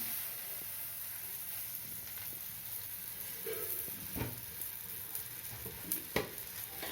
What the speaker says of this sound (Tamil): எண்ணெய் தடவிட்டு இந்த அடையை எடுத்து அப்படி போட்டுற வேண்டியது தான்